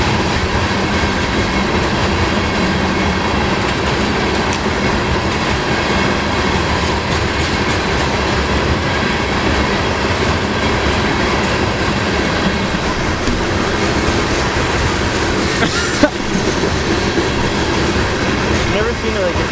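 A train rolls past at very close range, a loud, continuous roar of wheels and carriages that stays dense and steady throughout, with a brief sharp clank near the end.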